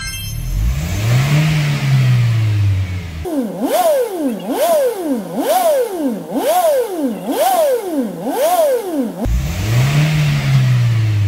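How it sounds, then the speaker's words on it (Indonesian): A Toyota Kijang Innova engine is revved hard by repeated kick-downs to clear deposits. About six quick rises and falls come in a rhythmic burst, with slower single revs before and after, loud and close, with no talking. "Saatnya kita lakukan pengegasan atau kick down 10 kali untuk mengeluarkan kotoran pada mesin."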